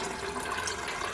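Water pouring out of a film developing tank into a sink, a steady close rushing splash that runs unbroken throughout at moderate loudness.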